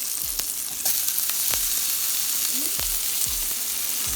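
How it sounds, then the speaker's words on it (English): Onion sautéing in bacon fat in a pot, a constant close sizzle broken by several sharp taps and scrapes of a utensil against the pan, without speech. "to saute in that delicious bacon fat."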